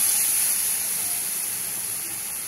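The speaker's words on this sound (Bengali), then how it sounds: "হয়ে গেছে আমার কালো জিরাটা হয়ে গেছে, দিয়ে দিলাম ঝোলটা" Jhol gravy poured into a hot pan of sizzling nigella seeds (kalo jeera) gives a loud, continuous hiss and steaming roar. It holds steady and close for the whole moment, easing only slightly toward the end, with no voices.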